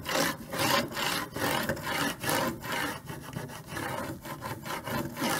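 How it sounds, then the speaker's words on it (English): A scraper rubs back and forth over a design being smoothed onto a wooden board, a rhythmic rasping scrape of about two strokes per second, close and steady with no talk. "I can smooth this design onto my wooden board. And I can use my scraper."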